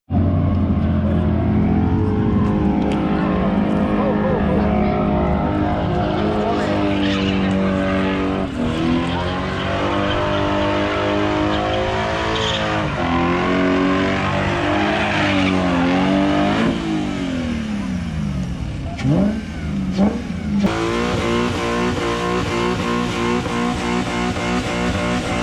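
Drift cars at the first round of the Serbian drift championship in Bijeljina, engines revving hard and loud with long tire squeals and skids, one continuous stretch of racing noise from start to finish.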